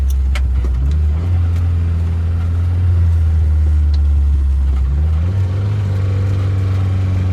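A Mercury Capri Turbo coasts downhill with a low, steady drivetrain hum and a brief rise in engine pitch partway through, heard close from inside the car with no talk.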